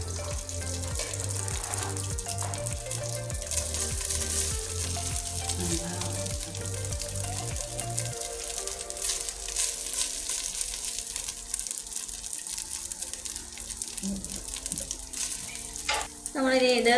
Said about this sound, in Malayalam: ഇനി അതിന് കുറച്ച് നെയ്യ് ഒഴിച്ചു. ഇത് നമ്മൾ ആദ്യം ചോറ് ഇടുകയാണ്.